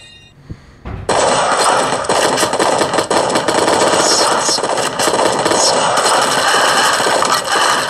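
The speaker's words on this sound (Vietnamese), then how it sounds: "Mà đạn này nó nổ to quá," Loud, sustained rapid gunfire from a mobile action video game roars almost without pause for about seven seconds after a brief quieter lead-in, dense and harsh with no speech.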